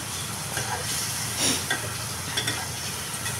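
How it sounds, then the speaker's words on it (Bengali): A pan of chiring fish curry hisses and sizzles softly as it is gently stirred, faint scraping touches breaking through a steady low frying hiss. "দিলাম এখন লাড়বো। যেহেতু মাছ বেশি লাড়া যাবে না, হালকা হালকা করে লাড়তে হবে।"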